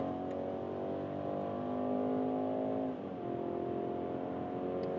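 A BMW X3 with a 2-liter 4-cylinder engine accelerates in sport mode on a German autobahn. Heard from inside, the engine drones and slowly climbs in pitch, with one brief dip at a gear change before it pulls on.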